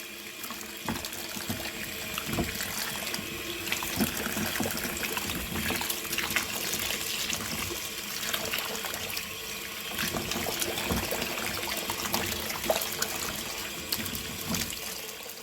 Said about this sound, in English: I am going to wash and clean my sweet potatoes first